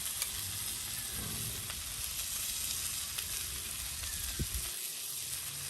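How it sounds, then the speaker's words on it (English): Steady, dense sizzling of steak frying on a hot CampQube grill outdoors, loud and close, continuing without pause, with a faint clink near the end. "And you can hear that already sizzling up a lot better."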